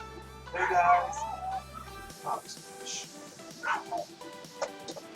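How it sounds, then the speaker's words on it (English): Neighbour's small dogs yip and bark faintly from outside in a few short bursts, heard under a nearby voice during a laptop display repair. "My neighbor's dogs are saying hello out there."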